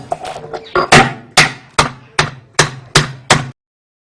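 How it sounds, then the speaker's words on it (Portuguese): A metal tool taps the shaft of an Electrolux 6 kg washing machine to loosen it: about eight sharp, ringing knocks at a steady, close rhythm, then silence. "uma batidinha."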